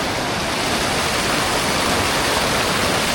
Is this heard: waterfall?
yes